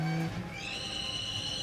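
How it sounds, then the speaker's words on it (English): A high, tonal squeal from the brakes of an Aston Martin Vulcan, first a short low screech, then a thin sustained whine with piercing overtones, with a faint rumble underneath. "That's the brakes."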